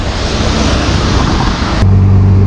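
An auto rickshaw ride through road traffic in Guwahati brings a loud, constant engine drone mixed with wind rush, steady throughout and growing heavier in the low rumble near the end, with no voices.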